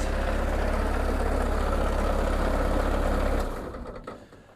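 A Bobcat 763 with a Kubota 2203 diesel engine runs steadily and smoothly at a constant low drone, close and loud, then winds down and goes quiet near the end.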